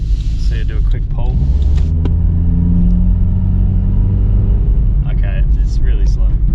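Someone's green car pulls away after a fuel flap repair, its engine rising in a loud, steady low drone that climbs and holds for several seconds, with a voice speaking briefly near the end.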